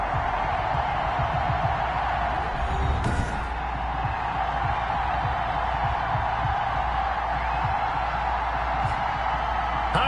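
Sold-out Cincinnati stadium crowd in a Madden 21 football game, Bengals hosting the Dallas Cowboys, a steady loud roar of cheering that holds for the whole stretch without letup.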